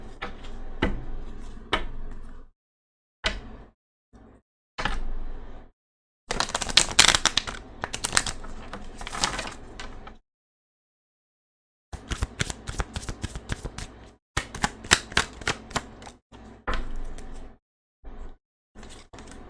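Tarot cards being shuffled by hand in bursts of rapid riffling and fluttering, with several short pauses between rounds, close and fairly loud with no talking.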